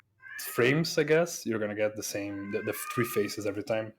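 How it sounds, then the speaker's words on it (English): A cat meows loudly downstairs in a home, giving drawn-out, repeated yowls that overlap someone talking close by. "My cat is screaming downstairs."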